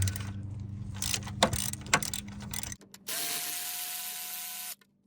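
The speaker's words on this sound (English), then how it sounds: "that one there, I should be able to get to with a ratchet. Now we're gonna take this bolt off right here." A ratchet works on a starter bolt of a 1990 Jeep Cherokee XJ, giving close clicking pawl strokes with a couple of sharp knocks, then a brief pause and a steady mechanical whir, all without talk.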